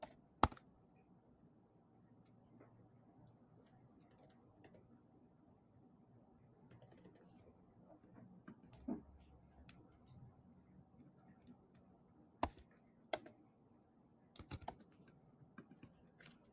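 Typing on a computer keyboard while entering a payment figure, sparse light clicks and a few sharper taps scattered across a quiet room.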